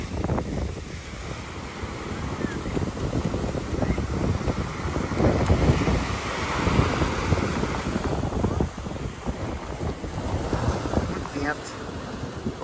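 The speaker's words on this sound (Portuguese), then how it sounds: "Hoje tá ventando demais." Strong gusting wind roars across the microphone while surf churns and crashes nearby at Long Branch beach, United States, with voices talking underneath.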